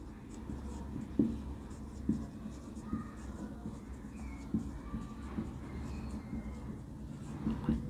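Marker or chalk strokes on a board during a biology lecture make faint scratchy taps and squeaks, low and close, under a quiet room with a voice talking faintly.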